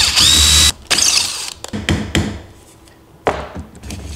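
Power drill boring into 2x4 lumber to make a hole for a round dowel plug, a loud sustained whine in the first moments followed by several shorter bursts of drilling and pauses, close up with no talking.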